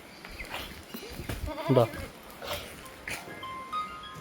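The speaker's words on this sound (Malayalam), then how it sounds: "ഒരു പെണ്ണാടും കുട്ടിതാ നല്ല അടിപൊളി ഒരു പെണ്ണാടും കുട്ടി" A nanny goat and her kid bleat a few times in short, wavering calls over faint background noise, one louder call near the middle.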